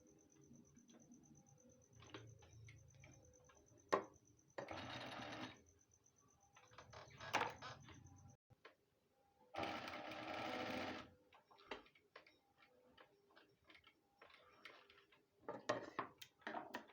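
Sewing machine stitching a black strip onto ladies' trouser fabric, in several short whirring runs a second or so long separated by pauses, with clicks and handling noise in between, close but quiet, faint talk at times.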